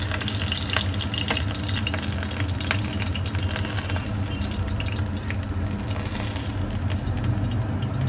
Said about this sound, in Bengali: বাকি যে ভোলা মাছগুলো ছিল সেগুলো ভেজে তুলে নিচ্ছি